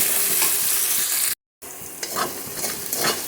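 Ginger, cumin and coriander powder with a little turmeric and sugar fry in hot oil for a restaurant-style paneer curry, a close, busy sizzle with stirring scrapes, interrupted by a brief dead-silent gap before the frying resumes.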